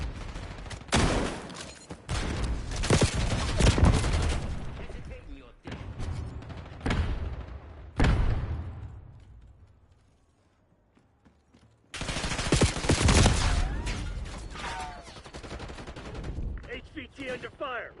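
Gunfire in the video game Call of Duty Black Ops 6, loud bursts of automatic fire and heavy blasts in clusters, broken by a short lull before another barrage.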